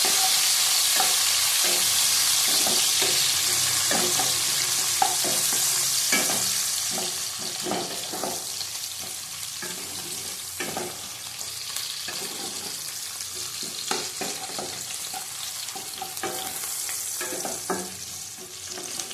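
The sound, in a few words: green chillies frying and being stirred in a pan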